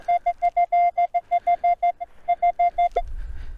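A metal detector sweeping for coins in Ukraine gives a rapid string of short, steady beeping tones, about a dozen evenly spaced pulses, followed by a brief scrape and low rustle as it stops.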